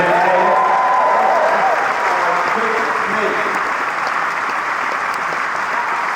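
A stadium crowd at Twickenham cheers and applauds loudly for the England women's rugby team, a dense continuous roar of clapping and shouts filling the whole clip, with a voice talking over it.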